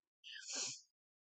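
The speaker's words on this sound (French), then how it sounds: "Pardon, je vais éternuer." A single short sneeze, close and fairly quiet, alone in silence.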